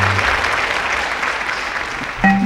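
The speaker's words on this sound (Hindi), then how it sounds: "जोरदार तालियां हो जाए कैदी भाइयों के लिए" Loud applause from a gathered audience in honour of prisoners, steady and dense for about two seconds before a musical tone cuts in at the end.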